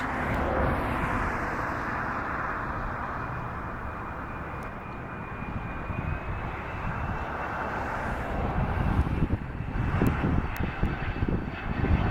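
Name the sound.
Cessna Citation business jet on landing approach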